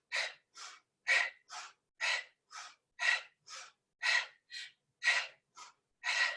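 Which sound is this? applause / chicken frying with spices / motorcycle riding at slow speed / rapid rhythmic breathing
rapid rhythmic breathing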